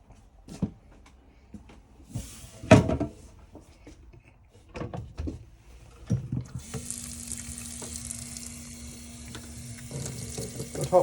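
Hot water running from the tap into the sink of a Bailey Alliance 66-2 caravan, preceded by clunks and handling noises, then a steady close hiss of flowing water with a faint hum beneath.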